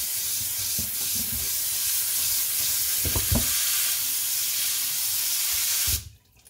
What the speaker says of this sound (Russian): Промываем теплой водичкой.